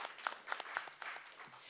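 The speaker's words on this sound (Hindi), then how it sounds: "प्लीज़ जोरदार तालियों के साथ स्वागत कीजिए अब्बास का" Scattered audience hand claps greet judge Abbas Mazar on a singing competition stage, a short, fairly quiet patter of separate claps without a full ovation.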